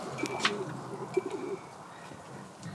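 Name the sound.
pigeons cooing in loft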